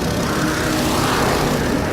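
A propeller airplane engine opened up to full throttle produces a loud, steady, continuous roar with no pauses and no talking.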